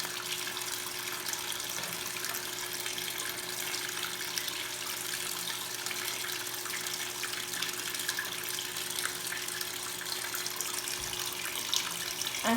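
Water gushing steadily into a Consul Super Cargo 8 kg top-load washing machine filling for the rinse cycle with towels, a constant even rush with a low hum, no voices.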